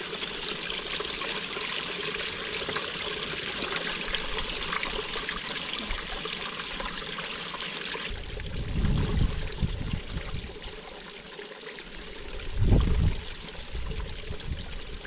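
Water trickles steadily through a Sawyer water filter during a wild camp in the Lake District. It is a close, continuous dribble with a few louder gurgling splashes in the second half.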